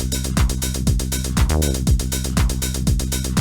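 Loud acid riff with a squelchy 303-style bassline over a driving 909-style drum pattern from Ableton Live's stock instruments, steady four-on-the-floor kicks and a resonant filter sweep midway.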